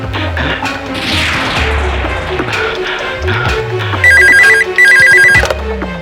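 A phone's electronic ringtone trills in two bursts near the end, loud and close, over dramatic background music and thuds.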